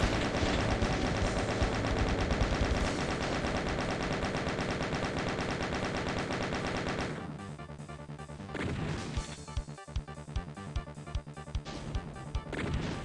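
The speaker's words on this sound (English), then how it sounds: "I think we can afford to chain gun some of these guys" Chaingun in Doom 2 firing at enemies, a dense rapid stream of shots with crashing hits at first, then thinning into separate sharp bursts and single cracks, loud and close.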